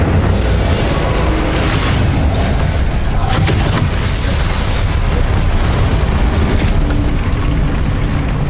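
Fire spell blasts in a Hogwarts Legacy duel, dense continuous loud booming and crackling bursts of magical combat filling the whole stretch.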